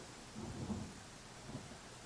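A thunderstorm in the video game Pathfinder Kingmaker Enhanced Edition: a soft, low rumble of thunder rolls under a steady hiss of rain, faint and distant, with no talk.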